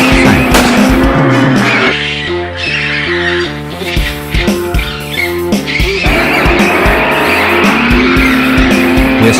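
A fast cartoon car chase with loud racing engine roar, screeching tires and skids, layered over a busy music score that dominates the middle stretch, all close and energetic.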